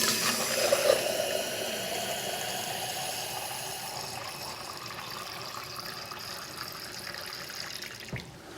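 A newly replaced reverse osmosis faucet runs a steady stream of water into a sink, a loud constant rush that eases slightly toward the end, with no talking over it.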